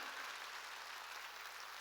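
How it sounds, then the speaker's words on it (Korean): A church audience claps during a sermon, producing a continuous wash of applause that holds steady, fairly quiet and somewhat distant, for just under two seconds without talk. "박수 치려면 하나님께 세게 치라고요"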